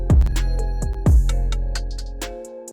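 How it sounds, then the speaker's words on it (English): Trap beat mixed in Cakewalk by BandLab with a clipper on the master channel: booming 808 kick hits with snappy percussion and hi-hats over a sustained melodic pad, loud and up close, no talking. "I just put a clipper on my master channel."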